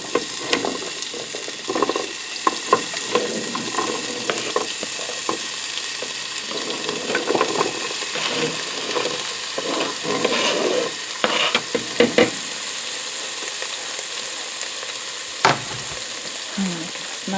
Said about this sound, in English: So let's start out with the onions. Hear the sizzle.